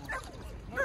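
Two short dog barks, one near the start and one at the end, with yelping tones, over low rumbling outdoor background.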